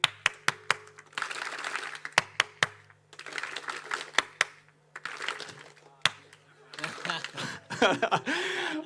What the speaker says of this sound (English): If I clap 3 times, you clap 4.